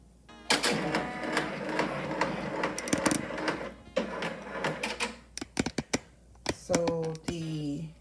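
An embroidery machine starts up with its head moving into position, giving a close, busy mix of whirring, ticking and short mechanical clicks, then a few sharp stepping beeps and motor tones near the end, all heard without speech.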